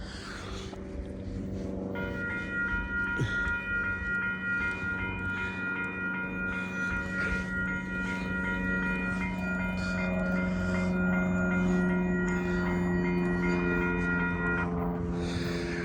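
Canadian Pacific and Kansas City Southern freight locomotives roll through the Boone Ave grade crossing in New Hope, Minnesota, a steady loud rumble of railcars under the continuous ringing of the crossing bell throughout.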